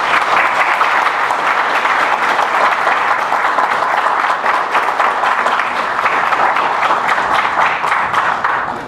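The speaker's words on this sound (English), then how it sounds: "how about a round of applause for these terrific candidates?" An audience at a League of Women Voters city council candidate forum in Oxnard claps for the candidates, a loud, sustained, even roar of applause lasting several seconds without letting up.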